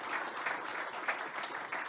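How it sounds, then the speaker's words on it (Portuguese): A crowd applauds steadily, a dense patter of many hands clapping together, moderately loud and sustained throughout. "Uma salva de palmas para a Adriana."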